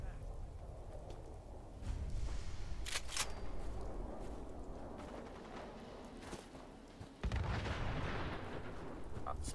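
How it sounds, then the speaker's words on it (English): Explosions and heavy combat blasts in Fallout 4, rumbling booms and bursts over a constant noisy din, with a strong low boom near the end and speech mixed into the game sound. "explosions."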